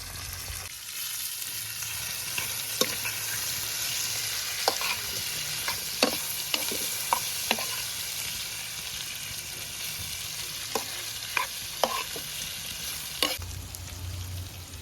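Ackee sizzles and fries in a pan, a steady hiss broken by scattered clicks and scrapes of the utensil as it is stirred, close and alone without voices.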